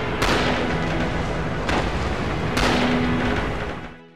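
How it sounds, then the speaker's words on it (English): Artillery barrage in Red Orchestra 2, a World War II shooter: three heavy blasts roughly a second apart roll into one continuous loud rumble before fading at the end. "A well-placed artillery or mortar barrage can clear out an objective ready to be taken by your men."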